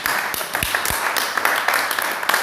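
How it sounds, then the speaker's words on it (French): Church assembly audience applauding, a dense continuous patter of many hands with a few sharper claps standing out, steady and moderately loud throughout. "Applaudis pour toi-même, pour lui alors."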